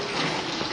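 Tap water pouring steadily into a child's bathtub, a dense continuous rush heard up close without any speech.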